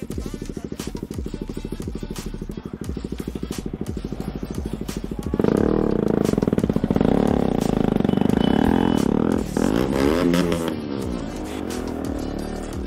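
KTM motorcycle engine idling with a steady rapid putter, then revved louder into a rising, roaring growl before easing back, heard up close with little talking.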